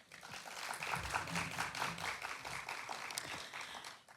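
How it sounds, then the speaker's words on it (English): An audience at a memorial lecture applauds after a welcome, a steady wash of many hands clapping at moderate distance that holds for several seconds and fades at the end. "Round of applause for that."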